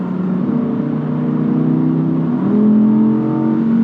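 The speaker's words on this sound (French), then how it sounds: "Et là on a le bruit du V10 qui chante" A high-revving Audi R8 V10 engine climbs in pitch, drops briefly as a gear shifts, then pulls strongly again, loud and close with no talking.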